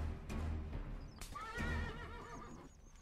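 A horse in the Western video game Call of Juarez whinnies loudly with a rising, quavering neigh, with snorts and hoof clip-clop around it, close and clear with no talk.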